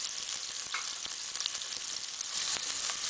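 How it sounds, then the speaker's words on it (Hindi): Onions frying in hot ghee for chicken yakhni pulao, a continuous crackling sizzle with scattered pops and occasional utensil scrapes, moderately quiet and close. "घी हमारा गर्म हो चुका है, इसमें प्याज ऐड करते हैं।"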